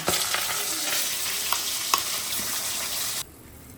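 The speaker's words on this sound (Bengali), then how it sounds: "মাছগুলো সব ভাজা হয়ে গেছে, এবার তুলে নেব।" Pomfret fish frying in hot oil in a home kitchen, a steady loud sizzle with occasional stirring clinks, alone with no talk, cutting to near quiet at the end.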